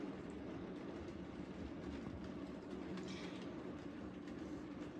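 A model railway locomotive fitted with a sound decoder runs on a layout, a faint, steady low rumble and train-like hum with soft rolling texture throughout, no voices.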